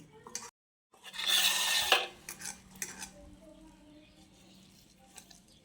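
Squeezed, soaked soybean chunks go onto a plate in a brief burst of clattering and wet handling, followed by a few softer knocks and rustles at close range.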